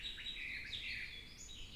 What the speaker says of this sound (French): l'air pur rempli du chant des oiseaux